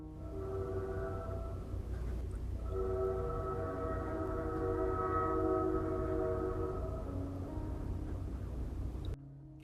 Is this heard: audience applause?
no